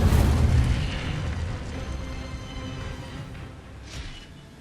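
An Incendio fire spell in the Hogwarts video game erupts in a deep booming burst, loudest at the onset, then a rumbling roar that slowly fades, with a brief whoosh near the end.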